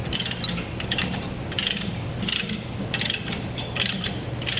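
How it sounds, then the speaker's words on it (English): A Titan chain ratcheting load binder clicks as its pawl is released, a series of loud, close metallic ratchet clatters in an uneven rhythm over a steady mechanical background. "and I'll release that pawl."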